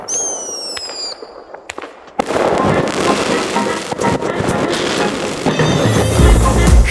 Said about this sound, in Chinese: 这也是芬兰唯一可以放烟火的一天。